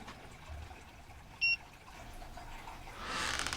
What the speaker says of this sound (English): Long press the setup button right there until you hear a beep